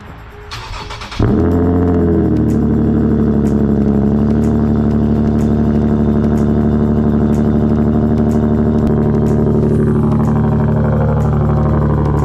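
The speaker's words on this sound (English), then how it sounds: "Let me get you guys a cold start." A tuned car engine cold-starts with a brief crank, then catches into a loud, steady, close high idle that holds unchanged for the rest of the recording.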